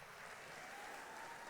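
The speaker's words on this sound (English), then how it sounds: "Big round of applause for Miss Belize." Audience applause for Miss Belize at a formal public gathering, a steady wash of clapping from a crowd that holds evenly through the moment without rising or falling, fairly distant and moderately quiet.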